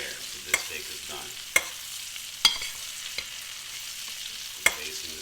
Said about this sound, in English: Basting the steak is going to hold in all that flavor with the butter, the olive oil, the spices